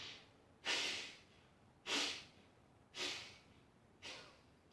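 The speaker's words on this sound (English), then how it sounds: "Lengthening the exhale out the nostrils, so really trying to be relaxed" Slow, deep breathing through the nose during a relaxation exercise, four close, airy breath sounds evenly spaced, each swelling quickly and then tapering away over a long exhale.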